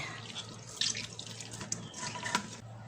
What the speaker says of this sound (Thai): เราก็บีบน้ำออกให้หมดนะคะ บีบน้ำออกให้หมดเลย